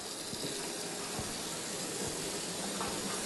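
A water tap runs on its own, a faint, steady gushing hiss of flowing water that continues without a break and with no voices.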